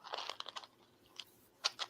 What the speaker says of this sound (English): What are you chewing on?